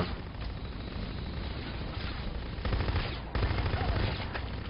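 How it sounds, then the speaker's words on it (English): Heavy, continuous video game gunfire, a dense loud spray of rapid bullet shots running throughout with brief shifts in intensity. "This massive spam of bullets is still not helping me."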